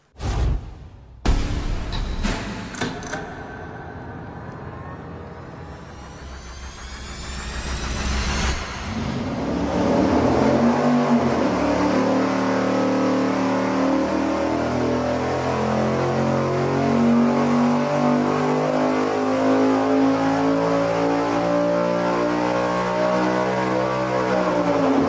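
A racing engine on a dyno is fired up with cranking and sharp bangs, then settles into a loud sustained roar that rises steadily in pitch as it revs up a long pull, with no talking.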